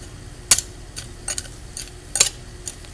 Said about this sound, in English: just chopping the weeds out